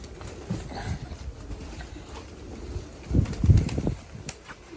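A hungry street pigeon with red eyes gives soft low murmurs, then a louder flurry of wing flaps and throaty sounds near the end, close by with faint street ambience.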